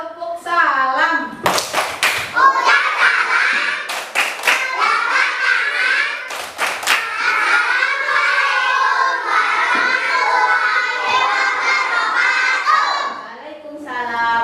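Young pupils in a classroom perform the tepuk salam clapping greeting, several sharp rhythmic claps in unison mixed with loud chanting children's voices, close and energetic.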